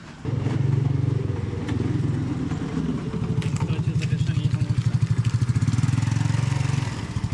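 A small rental scooter engine starts and runs nearby in Ninh Binh, Vietnam, loud and rattly, with a steady putter that pulses rhythmically as it idles and revs slightly.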